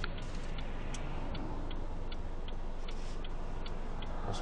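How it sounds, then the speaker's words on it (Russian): Hazard-light relay in a driving-school training car ticking at a steady, even pace, around a dozen crisp clicks over a faint cabin hum, close and clear with no talking. "Аварийки."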